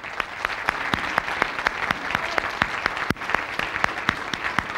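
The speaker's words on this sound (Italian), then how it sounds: "Bel applauso, forte che se lo merita!" Audience applause greets a returning television personality at a tribute show, a dense steady clatter of many hands with sharper individual claps standing out, loud and continuous throughout with no talking.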